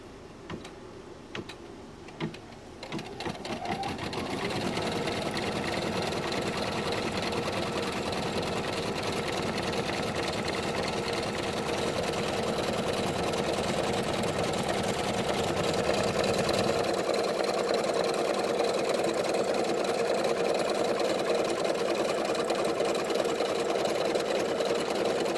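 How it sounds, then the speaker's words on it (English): An embroidery machine stitches a line on a wallet held in the hoop, its motor humming steadily with a fast ticking needle rhythm that runs continuously and close after a brief start. "I'm going to put this back on the machine. And it's going to stitch a line"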